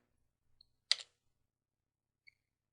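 A single computer keyboard key, the enter key, is struck once in a quiet room, giving a short sharp click with a couple of faint taps before and after.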